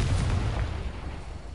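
Confringo fire-spell explosion in Hogwarts Legacy, a single close, heavy boom that fades out over about a second and a half.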